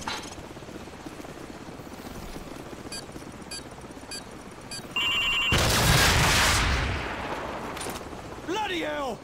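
A helicopter in the Call of Duty 4: Modern Warfare video game hums beneath a steady battlefield din, then a loud, roaring blast of explosive or missile noise swells midway before easing back.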